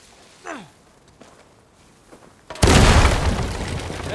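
In a video game, after a few quiet breaths and faint sounds, a sudden loud dynamite blast erupts, followed by a sustained roaring rumble that slowly fades.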